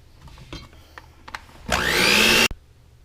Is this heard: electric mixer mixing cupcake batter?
yes